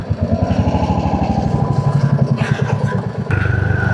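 Motorcycle engine on a ride to a bank branch, a loud, close, steady pulsing drone that drops briefly near the end before settling into idle.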